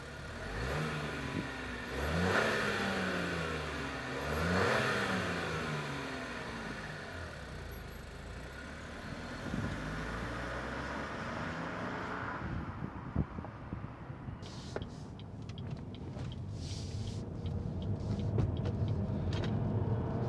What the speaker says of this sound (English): Let's go ahead and put it into gear, and let's take it for a drive.